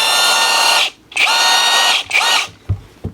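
A Vanque brushless impact wrench whirs on low speed in three short bursts, a steady high motor whine with a brief pause between each, close up and with no talk.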